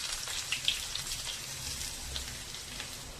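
Curry leaves and chopped carrot frying in hot oil, a soft, steady crackling sizzle with a few sharper pops, heard close but fairly quiet.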